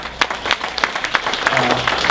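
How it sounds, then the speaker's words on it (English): Audience members at a community town hall on crime clap in distinct, fairly loud individual claps rather than a full roar, with a low murmur of voices underneath. "everybody should clap about that"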